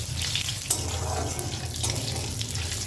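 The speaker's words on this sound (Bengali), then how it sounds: "তেল গরম হয়ে গেছে দিয়ে দিলাম শুকনো লঙ্কা আর দিচ্ছি গোটা চিড়ে ফোড়নটাকে কয়েক সেকেন্ড একটু নেড়ে নেব" Dry red chillies and whole spices are dropped into hot oil and sizzle with a dense, hissing crackle that stays close and steady throughout, with a few louder spits and pops.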